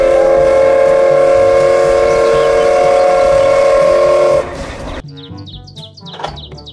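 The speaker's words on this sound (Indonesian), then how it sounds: "Kereta Thomas" A toy Thomas train lets out a long, loud steam whistle with steady sustained tones for about four seconds, then cuts to quieter clicking, chirpy toy noises.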